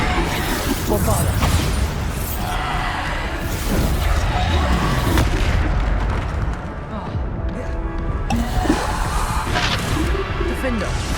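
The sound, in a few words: Bombarda explosion spell from video game Hogwarts Legacy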